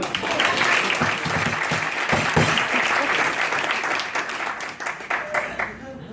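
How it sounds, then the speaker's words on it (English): An audience breaks into sustained applause for a presenter, dense clapping from a crowd filling a hall, loud and steady before tapering slightly at the end. "So give your round of applause for Richard."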